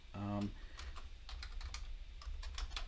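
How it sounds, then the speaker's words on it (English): Typing on a computer keyboard: a steady run of close, light key clicks under a brief hum at the start, continuing alone at a moderate level. "I'm actually going to type in"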